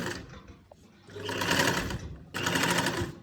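A sewing machine sews long stitches along a folded-in round neckline, running in two close, loud bursts separated by a short pause with light handling noise.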